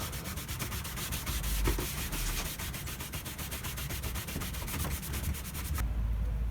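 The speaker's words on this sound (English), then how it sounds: "Just giving it a scrub with some hot water." Wooden surface being scrubbed with hot water to lift old wax and stains, a close, continuous rasping scrub with quick regular strokes that stops abruptly near the end, no talk.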